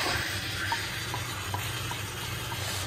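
Tomato paste and kidney beans fry in a pan while being stirred, giving a steady low sizzle with soft, regular scraping strokes about every half second, close and moderately loud with no talking.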